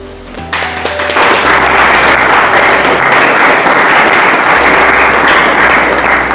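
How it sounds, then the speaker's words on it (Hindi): A church congregation breaks into loud, sustained applause during a Hindi sermon. The clapping is close and dense and fills the whole stretch without any talk over it. "यहां ताली बजाओ।"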